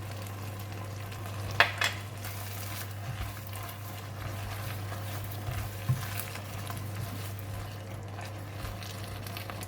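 Okra stir-frying in a pan with dhal, a soft steady sizzle throughout with a couple of brief scraping stirs near the start and a small clink later, no talking.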